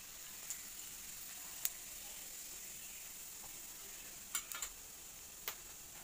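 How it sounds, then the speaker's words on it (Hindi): Cumin seeds and dried red chillies in hot oil in a kadhai give a faint, steady sizzling hiss, with a few small pops and crackles scattered through. "तेल गर्म हो गया, अब हम इसमें सबसे पहले तड़का ऐड कर देंगे।"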